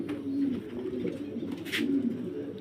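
Pigeons at a large pigeon farm in Faridpur coo close by in low, rolling, repeated calls, with a brief higher chirp partway through.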